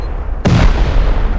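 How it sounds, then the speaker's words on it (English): A grenade explosion in a video game, a single sudden heavy boom breaking a quiet moment and then rumbling on loud and close for the rest of the brief moment. "Fire in the hole when you're done."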